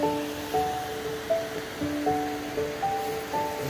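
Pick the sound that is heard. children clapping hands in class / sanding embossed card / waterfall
waterfall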